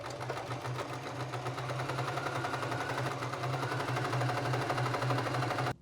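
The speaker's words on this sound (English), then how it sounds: "Fold that in half and sew a 1/4 inch or 5 mil seam allowance down one side" A sewing machine runs without pause as it stitches a quarter-inch seam down folded fabric strips, a close, even mechanical whir with a rapid needle patter throughout.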